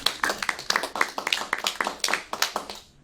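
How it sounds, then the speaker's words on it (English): A small group claps for a speaker at an event, a brief round of distinct, slightly uneven hand claps that quickly trails off. "give speaker a round of applause"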